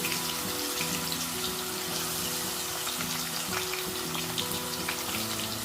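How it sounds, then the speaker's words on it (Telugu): Sliced onions and green chilies fry in hot oil with a dense, even sizzle that stays loud and close throughout. A faint hum sits underneath. "నూనె బాగా కాగిపోయిందండి ఫస్ట్ ఉల్లిపాయలు వేసేసుకున్నాము అట్లాగే పచ్చిమిరపకాయలు కూడా వేసేసుకున్నాము"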